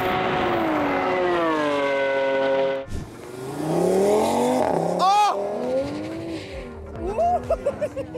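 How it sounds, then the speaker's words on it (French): A Lamborghini Aventador V12 with open exhaust roars past at high speed on an airfield runway. Its loud rising howl peaks and drops off with a sharp pitch fall as it goes by, and a voice comments afterward. "c'était quand la Ventador elle passait, avec échappement libéré, le V12 là qui passait à 300"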